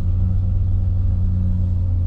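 Formula 1 car engine given throttle, a loud steady low rumbling drone with strong harmonic bands, close and continuous throughout.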